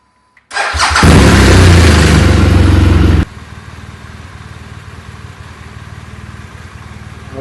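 A motorcycle engine cranks and fires with a sudden loud roar, holds a high rev for a couple of seconds, then drops to a steady, quieter idle that runs on alone.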